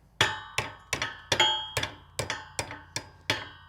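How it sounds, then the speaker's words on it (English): Nine evenly spaced metallic hammer blows drive carriage bolts back through a rolling cultivator during a rebuild, each strike sharp and ringing briefly, close and loud with no talking. "At this point, you can drive these carriage bolts back in this way."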